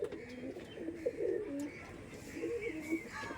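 Teddy pigeons coo repeatedly in low, throaty bursts, close by, with a faint hiss and rustle of the surroundings behind them.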